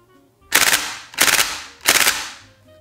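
A VFC M249 airsoft replica dry-fires without BBs in three short, loud full-auto bursts at close range, each a rapid mechanical rattle separated by brief pauses.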